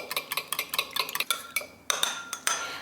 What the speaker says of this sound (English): I'm going to pour that in and give it another stir